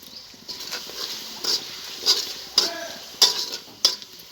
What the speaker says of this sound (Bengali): এগুলোর সঙ্গে একটু কষিয়ে নেব।